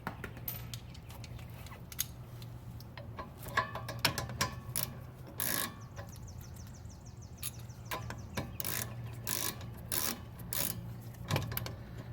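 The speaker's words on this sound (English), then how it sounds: "use my 15 millimeter and my 13 millimeter to tighten it" A wrench ratchets while tightening bolts on the rear brake of a Volvo S60 during a brake upgrade, giving rapid clicking runs and metallic taps close by over a low steady hum, with no talking.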